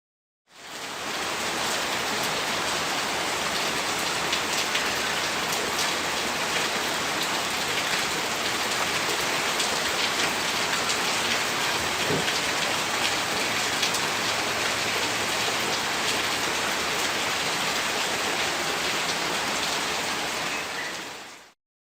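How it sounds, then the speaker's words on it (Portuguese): Continuous rain falls in a dense, uniform hiss that fades in, holds steady and loud for about twenty seconds, then fades out, played as an ambient soundscape. "Parecia um barulho de chuva."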